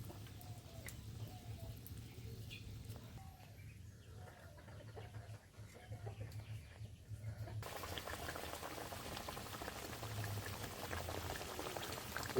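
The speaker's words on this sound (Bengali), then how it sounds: "ঝোল ফুটে উঠেছে" Pabda fish curry gravy bubbles in a pot over a wood fire, a faint, soft, continuous simmering texture, with a rooster and birds audible in the background.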